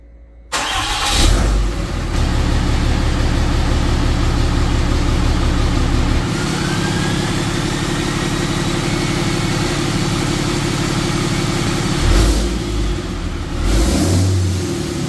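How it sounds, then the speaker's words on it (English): A Dodge Cummins diesel truck, having its water pump replaced, cranks and fires up, then settles into a loud, steady diesel idle with a brief rev partway through. "now we'll fire up the truck, pump it through, open up the rad cap again,"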